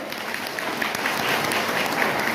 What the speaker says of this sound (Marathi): त्या डॉक्टर बाबासाहेब आंबेडकरांसाठी जोरदार टाळ्या झाल्या पाहिजे